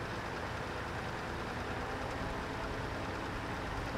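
A truck engine in the video game SnowRunner runs steadily as a broad, continuous rumble with a low drone throughout, with no voices.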